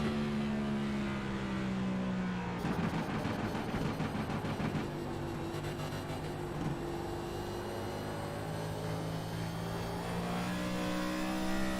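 A Next Gen NASCAR stock car engine in a racing game drones loudly and steadily on corner exit at New Hampshire, its pitch rising smoothly as it accelerates, with a brief rattling burst partway through and no voices.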